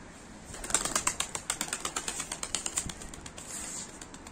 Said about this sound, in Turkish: Bu da bol taklalı bir kuş yine.